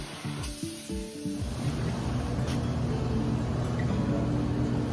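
Spray foam insulation hisses steadily from a spray gun inside a shipping container being turned into an off-grid office, a continuous close spray that begins after a few brief low knocks and then holds even throughout.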